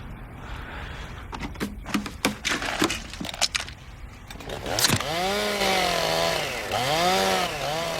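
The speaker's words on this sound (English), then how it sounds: "I thought I told him to bag that chainsaw." Several sharp clattering knocks, then a chainsaw revs up loud and close, its whining engine pitch rising and falling in repeated surges, in a TV horror drama.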